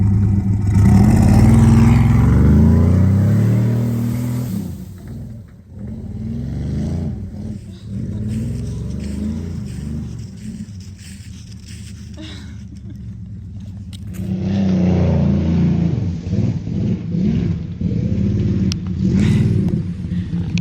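A 1971 Dodge Charger Super Bee, running for the first time in 34 years, rumbles loudly with a misfiring V8, its revs surging, easing off and climbing again close by.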